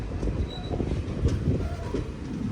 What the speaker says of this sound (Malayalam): പൂങ്കുന്നം റെയിൽവേ സ്റ്റേഷനിലേക്ക് ഇതാ നമ്മുടെ ട്രെയിൻ എത്തിക്കൊണ്ടിരിക്കുക